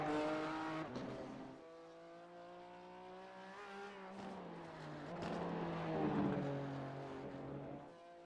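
Race car engine in a four-hour multi-class endurance qualifying session with GT3, GT4 and Porsche Cup cars, a loud sustained in-car drone whose pitch climbs and falls through gear changes, with a brief lift near the start.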